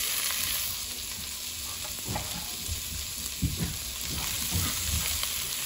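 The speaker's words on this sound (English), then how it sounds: "Now we're gonna use that fat to fry the onions and the garlic up." Onions and garlic fry in rendered pork fat for a Puerto Rican sofrito, a steady close sizzle with occasional stirring scrapes and pops and no talking.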